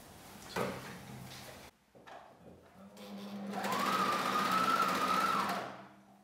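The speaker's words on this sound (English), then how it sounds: "you sew them together like that" A sewing machine stitches boxer brief fabric, starting after a few soft handling clicks and running steadily for about three seconds as a close, whirring drone before stopping.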